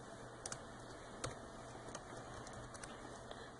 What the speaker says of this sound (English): Typing with one hand, so I apologize for the slow typing.